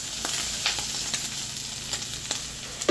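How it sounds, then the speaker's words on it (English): Mushrooms sauté in a pan ahead of the rice, with a continuous moderate sizzle and scattered light clicks and scrapes of stirring. "Alright, the mushrooms are sauteing."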